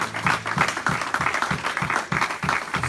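A church congregation applauding in acclaim during a worship service, dense continuous clapping with a steady rhythmic pulse, loud and close, filling the whole stretch.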